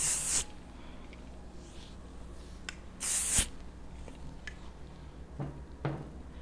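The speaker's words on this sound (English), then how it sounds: "we're just going to spray with a little hairspray." Hairspray sprayed onto sections of hair during a wavy styling, heard as two short, hissing aerosol bursts a few seconds apart, with light handling noises in between.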